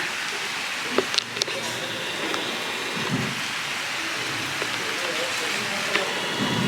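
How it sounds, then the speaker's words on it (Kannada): Rain falls steadily outdoors with an even, soft hiss, a few brief knocks and thumps, and faint voices now and then in the background. "ಮಳೆ ಬರ್ತಿದೆ ನೋಡಿ"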